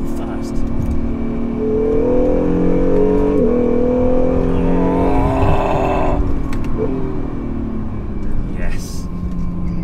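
A Honda/Acura NSX supercar engine revs and accelerates hard, its tone climbing in rising sweeps, loud and close, with road rumble throughout.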